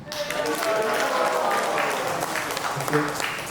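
At an initiation ceremony, assembled devotees give steady applause for an initiated mother, the clapping dense and continuous with scattered voices and a brief louder swell near the end.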